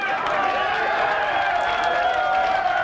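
Crowd at a 2001 Minnesota Fighting Championships light heavyweight bout, cheering and applauding loudly in a steady, continuous roar that fills the arena throughout.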